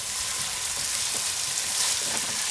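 Extra virgin olive oil sizzling steadily in a pan, a dense, continuous hiss with faint crackles throughout, close and fairly loud with no talking.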